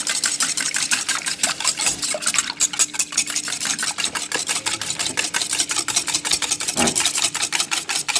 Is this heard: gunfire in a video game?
no